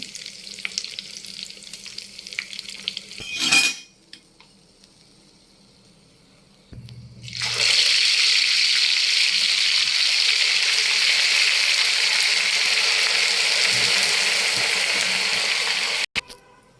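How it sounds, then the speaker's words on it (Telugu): Chicken pieces frying in a pan for chicken fry biryani, first a loud sizzle with a stirring scrape, then a pause, then a strong steady hiss of frying that runs on until it cuts off abruptly. "ఇలా ఫ్రై చేసుకోండి, ముక్క భలే ఉంటుంది టేస్ట్ అనేది"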